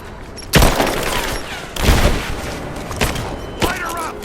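Heavy bursts of covering gunfire in the video game Rise of the Tomb Raider, three or four loud booming volleys with a rattling fusillade between them, close and forceful.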